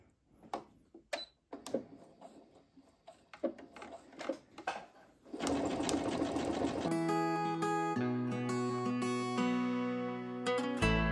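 A sewing machine stitching a drawstring bag with a zigzag stitch 6 mm wide and 1.5 mm long, first a few scattered clicks and handling knocks, then a steady close whirring run of stitching over the last half.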